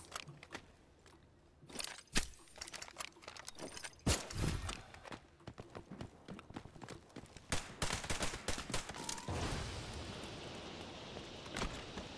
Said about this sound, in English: But now I've got his machine gun